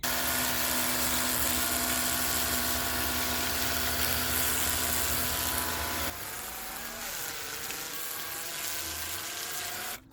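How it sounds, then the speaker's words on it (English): A small power washer runs loud and steady while plastic soda crates are blasted clean, its motor drone shifting pitch partway through before cutting off at the end. "We're just gonna take the power washer, see my little power washer here"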